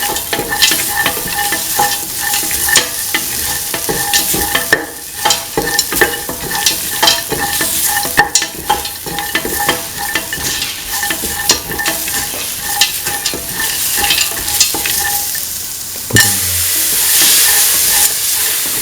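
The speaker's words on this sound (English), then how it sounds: "Mix thoroughly." Kidney beans and rice stirred in a pot, a steady scraping and sizzling clatter that runs close and continuous, with a brief louder change near the end.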